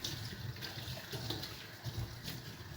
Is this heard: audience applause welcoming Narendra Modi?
no